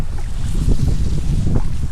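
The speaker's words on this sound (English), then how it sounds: "It's actually quite bad, it's like 35 mile an hour gust this time." Strong gusts of around 35 mph buffet the microphone on a Scottish loch at Loch Trool while canoeing, a loud, continuous low roar with rumbling surges.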